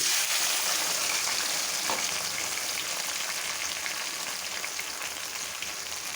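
Garlic and onions hit hot mustard oil for a sweet-sour-spicy mango pickle, giving a loud, steady broadband sizzle that stays even throughout with no talking.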